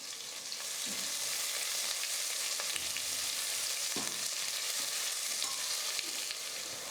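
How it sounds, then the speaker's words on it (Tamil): Thinly sliced onions sauté in oil and ghee with spices for a mushroom biryani, giving a steady, close sizzle with faint stirring clicks throughout and no talking. "வெங்காயம் இந்த மாதிரி நல்லா பொன்னிறமாக வதங்கி வர வரைக்கும் நம்ம வதக்கணும்"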